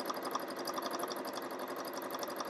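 A budget home sewing machine of about three hundred dollars stitching free-motion quilting swirls, its needle chattering in a fast, steady mechanical whir that stays close and continuous throughout, with nobody speaking.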